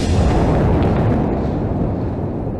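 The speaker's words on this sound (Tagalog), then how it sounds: "Sunod-sunod pa rin ang mga pagsabog sa Gaza City mula sa walang tigil na pag-atake ng Israel" A heavy, continuous low rumble of distant bomb blasts in Gaza City rolls on for a couple of seconds, dense and booming without pauses.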